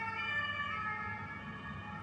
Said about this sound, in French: on entend l'ambulance qui s'éloigne, on entend les secours qui s'éloignent, les pompiers qui s'éloignent